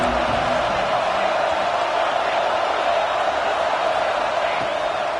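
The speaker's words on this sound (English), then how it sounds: "This crowd ready to make its presence known." A large American football stadium crowd roars in a steady, dense wash of cheering and noise throughout, with no clear breaks.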